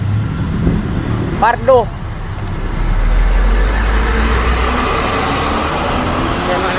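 Road traffic in Cebu, with passing cars and heavier vehicles as a loud, continuous rumble and a low engine drone building midway, and a brief spoken word early on.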